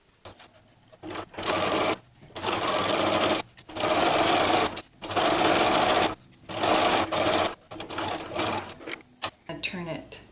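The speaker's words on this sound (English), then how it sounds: "So the first thing I'm going to do is pin this edge together and sew this." A sewing machine stitches along a fabric edge for a cupcake costume skirt, running in five or six loud, steady bursts of about a second each, separated by short pauses.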